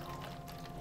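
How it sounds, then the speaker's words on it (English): Warm water poured into a cup holding a blind-bag surprise toy: a soft, steady trickling stream, faint and continuous for under a second, with no voices. "got my water all warmed up. Let's pour it in."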